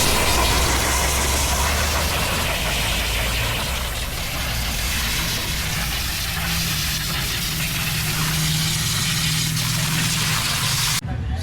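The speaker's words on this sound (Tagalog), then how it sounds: "So I'm using air compressor." An air compressor blasting dust off a Kawasaki Z400 motorcycle gives a loud, steady, broadband hiss with a low mechanical rumble underneath, continuous and close until it cuts off abruptly at the end.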